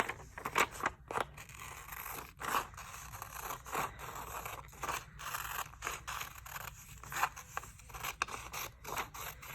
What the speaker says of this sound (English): we're gonna cut out the whole entire dark line around